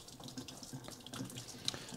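Tap water running steadily into a wooden barrel, a continuous close splashing wash with small irregular surges and no talking.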